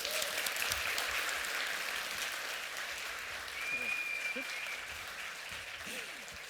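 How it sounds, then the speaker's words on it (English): Audience applause greeting a keynote speaker at a PySport X PyData conference, a fairly faint, steady patter of clapping with some voices and a brief whistle-like tone over it. "Please, round of applause for our first keynote."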